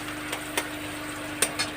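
Onions fry in a wok with a soft, continuous sizzle, broken by a few sharp scraping clicks of a stirring utensil, close and fairly quiet with no talking.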